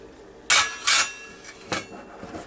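Half a can of Ro-Tel tomatoes goes into a hamburger casserole, with a few sharp metallic clinks and clatters of the can against the dish, then softer rustling, fairly close and without talk.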